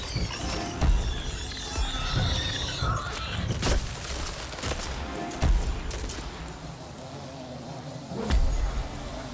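Weapon fire against a monster in the game Dauntless: a string of sharp mechanical cracks and impacts at irregular intervals over a busy, layered game soundscape.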